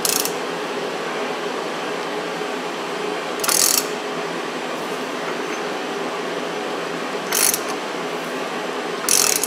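A ratchet wrench tightens a nut on a Cummins P pump, giving three short bursts of rapid clicking spaced a few seconds apart over a steady mechanical background hum, close and fairly loud.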